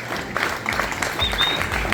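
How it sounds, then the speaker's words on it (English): A conference audience gives a short round of applause, a burst of dense clapping that carries on evenly with faint room murmur. "Let's give him a round of applause."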